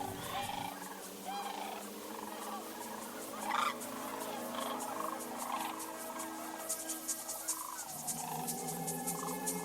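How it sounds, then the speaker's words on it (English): Cranes calling in the open over grain fields and water in West Texas, a dense chorus of overlapping trumpeting cries from a large flock, steady and fairly near throughout, with no talk. "ribbons of cranes fill the sky."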